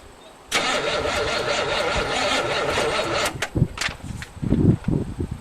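An old farm loader's engine cranks and catches on its first start since 2001, settling into a loud, steady rough running note before sputtering and surging unevenly near the end.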